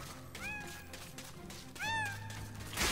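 Cats in the MediEvil video game meow twice, a short meow followed by a longer, louder one, over soft in-game background noise.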